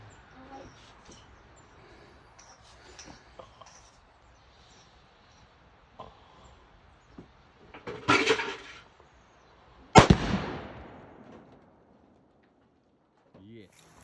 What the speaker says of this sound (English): We just blew up the pumpkin.